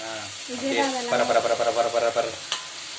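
Onions and tomatoes sizzle and stir in a hot pan with scraping clatter, while a voice talks over the cooking.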